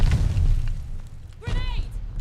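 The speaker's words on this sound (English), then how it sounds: "Grenade!" A grenade goes off in a Call of Duty Vanguard multiplayer match, a loud low boom filling the opening second before fading, followed by a voice shouting over the game noise.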